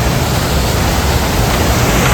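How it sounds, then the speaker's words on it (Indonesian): A waterfall in Japan, reached on a hillside trail during a fishing trip, pours as a steady, dense, full-bodied roar of rushing water, close and loud without a break, with no talk over it. "Ah ini air terjun"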